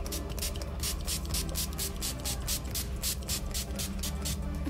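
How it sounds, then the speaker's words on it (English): Rapid bursts of a Hope Philosophy face mist spray, a quick series of short hissing pumps in an even rhythm, close and fairly quiet. "I'm just gonna spray my face with"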